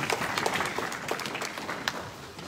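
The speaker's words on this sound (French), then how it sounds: "Est-ce que tu peux acclamer le Seigneur?" A church congregation applauding the Lord during a French-language service, with sustained, fairly even clapping from many hands at moderate loudness and scattered sharper claps standing out.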